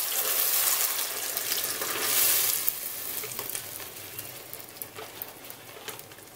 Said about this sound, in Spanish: Aquí ya está una cazuela bien caliente con un chorrito de aceite y ahora vamos a integrar la salsa.